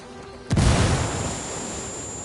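A frag grenade explodes in the video game Ghost Recon: one sudden loud boom that rolls into a low rumbling tail of debris and echo, with no talking over it.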